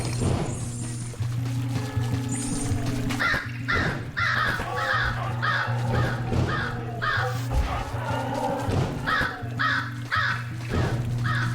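Crows in the action RPG GhostLore caw over and over in quick, irregular bursts, loud and close, above a steady low droning hum.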